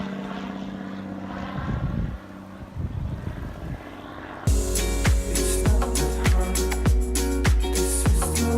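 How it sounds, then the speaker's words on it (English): Low-flying airplane roughly 100 feet up over Eleuthera, first a steady droning engine hum, then a louder, harsher roar with rapid pulsing beats as it passes close overhead, with no talk. "And plane's maybe up 100 feet."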